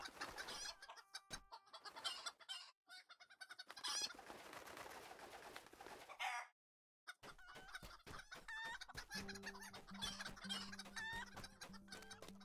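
Chickens clucking in a video game, a small flock of several birds giving repeated close clucks and calls, with other game sounds around them and a brief silent gap partway through.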